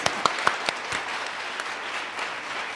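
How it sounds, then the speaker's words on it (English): Audience applause at the close of a visiting author reading and panel conversation, a dense patter of many hands clapping steadily across the whole stretch, with a few sharper individual claps standing out near the start. "Let's give them another round of applause."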